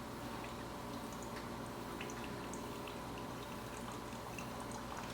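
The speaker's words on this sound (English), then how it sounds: "And it looks like it's pumping the water as it's brewing." A hot and iced K-cup coffee maker pumps water while brewing, giving a steady, faint hiss with soft gurgles and drips that carry on evenly throughout.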